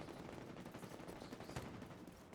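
Dense, continuous video game gunfire from The Division 2 crackles throughout, rapid overlapping shots and bursts that sound somewhat distant and muffled, like a battle raging on the other side of a building.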